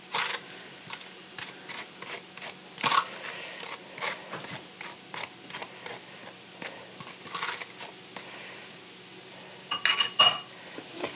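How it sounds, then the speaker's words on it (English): Spaghetti squash seeds and flesh scooped out with a spoon into a bowl, a close, quiet series of irregular scrapes, taps and clinks of utensil against squash and bowl, without speech. "We'll put all of these seeds and a little bit of the flesh in the bowl."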